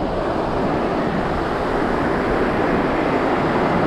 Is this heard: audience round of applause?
no